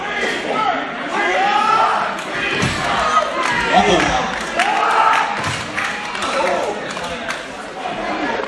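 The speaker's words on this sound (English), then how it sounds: "Certainly one of the first times Bulk's had his own cheering section" Raucous crowd at an IWC independent wrestling show cheering for the wrestler Bulk, shouts and chants rising and falling in waves, with a few ring thuds and voices talking close by over the din.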